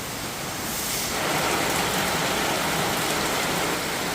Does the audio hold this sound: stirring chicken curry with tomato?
no